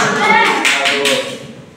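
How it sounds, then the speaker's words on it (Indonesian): Brief classroom clapping for a student during a teaching practice lesson, a short burst of a few hands clapping close by with a voice mixed in, fading out quickly. "Oke, tepuk tangan buat Aini."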